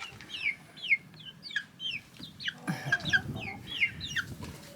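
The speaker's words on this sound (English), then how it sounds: "And these are the little chicks" Young chicks in a coop on a Portuguese farm, peeping and clucking in quick repeated high calls, close by and fairly quiet, with some rustling underneath.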